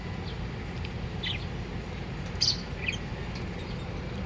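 Pet birds kept at a home bird breeder's, chirping in a few short, faint tweets and calls over steady background noise, with one brighter chirp standing out midway.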